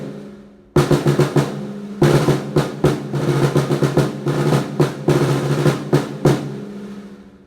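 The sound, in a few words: badly tuned beginner snare drum being played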